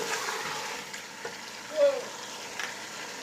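Spices frying in a pot while mutton biryani is cooked, a low, steady sizzle throughout with a brief stir or scrape near the middle, moderately quiet with no talking.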